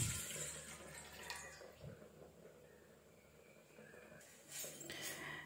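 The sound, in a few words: pouring 300 ml of water into a vessel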